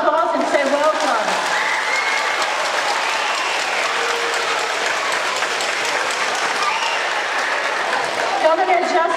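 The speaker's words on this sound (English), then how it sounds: "So let's give them a round of applause and say welcome." A school audience at Andrew Jackson Middle School applauds steadily, many hands clapping loudly throughout, with excited voices and cheers mixed in.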